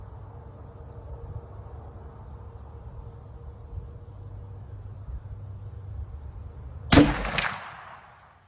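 A single sharp, loud report from a CVA Wolf muzzleloader fired at a 100-yard target, with a brief echoing tail, after a stretch of steady outdoor hiss.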